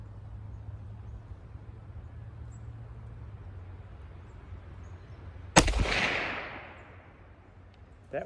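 Single sharp rifle shot from a Remington No. 5 rolling block chambered in 7mm Mauser, a loud outdoor crack with a long decaying echo after a stretch of quiet background hum.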